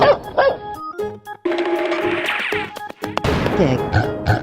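A cartoon dog barks a few times, loud and close, among crashing effects and music in a guess-the-door escape room game.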